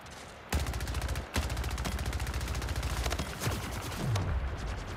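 Rapid automatic gunfire in the video game Splitgate rattles in dense bursts, with a brief gap early on, sustained close-up volleys and a falling whoosh near the end.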